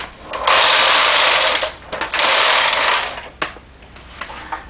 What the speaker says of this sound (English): thread the machine and get the zigzag row in